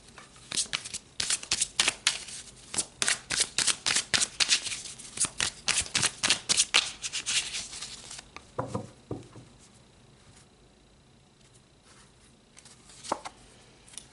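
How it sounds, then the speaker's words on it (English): Tarot cards are shuffled close up in a fast run of crisp riffling bursts, followed by a few softer slides and taps as a card is drawn. No one speaks. "let's pull another card."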